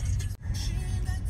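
A yellow car drives past on a street at sunset, a steady low engine rumble and tire noise close by, briefly dipping before continuing, with no talk.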